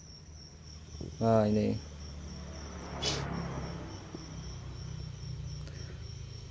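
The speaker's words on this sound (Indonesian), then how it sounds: "Ini jangkrik umur sekitar 2 mingguan ini sangat rakus ini makanya kawan." Crickets about two weeks old chirp in a small breeding cage, two meters long and sixty centimeters wide, bedded with dried banana leaves: a steady, continuous high trill carries throughout, with a brief spoken word and faint handling noises nearby.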